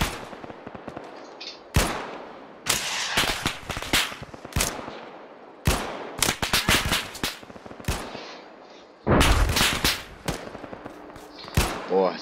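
Bursts of rapid automatic gunfire with scattered single shots, loud and close, stopping and starting across the clip, with faint voices between volleys, in the video game Arma 3.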